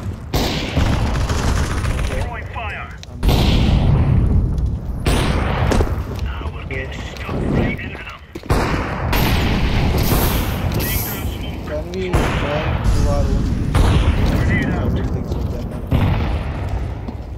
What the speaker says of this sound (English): Sniper shots coming from there.